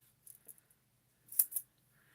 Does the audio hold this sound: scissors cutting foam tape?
yes